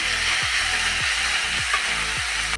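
Drumstick leaves sizzle in a hot pan for an egg fry, a steady crackling hiss with a few recurring low scraping sweeps through it.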